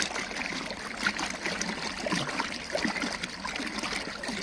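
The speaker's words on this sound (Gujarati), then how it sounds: "હવે અહીંયા પાણી ચાલુ કરી દીધું છે।" Irrigation water runs into a wheat field on a cow-based natural farm, a soft, steady trickling and gurgling flow at moderate distance with a light, continuous babble and occasional splashes.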